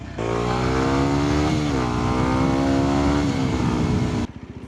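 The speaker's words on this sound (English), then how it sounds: "That was a Lotus, I think." A Lotus sports car roars past up close, its engine droning loudly with a brief shift in pitch, then cutting off abruptly.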